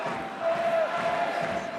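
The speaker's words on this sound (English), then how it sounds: "Home crowd enjoying a second victory and a third at home at the Stade Toulousain." A rugby home crowd at Stade Toulousain roars steadily through a Top 14 match against Stade Rochelais, a dense, continuous wash of cheering with a voice faintly audible over it.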